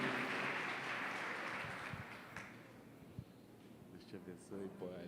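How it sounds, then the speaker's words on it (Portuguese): Church congregation applauding, a broad wash of clapping that fades out over the first few seconds before a voice begins speaking, fairly distant and soft. "Aplauda o nome do Senhor pela vida da Poliana."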